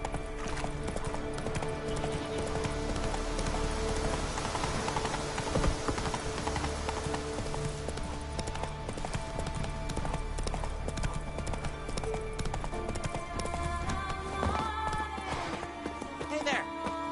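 Roach the horse galloping in The Witcher 3, steady rhythmic hoof clip-clop throughout with an occasional whinny, close and continuous, while voices talk over it.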